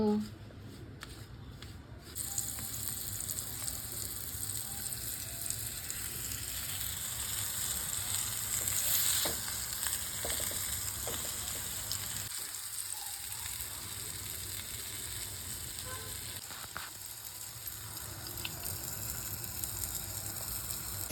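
Fish coated in a mix of fine semolina, rice flour and salt fries in a pan, giving a steady close sizzle that runs throughout, with faint scraping and voices at times.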